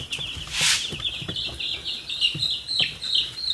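Chicks and young chickens peep and cluck on the other side of a wall in a brooder setting, a steady stream of high chirps running throughout with a few louder calls rising above.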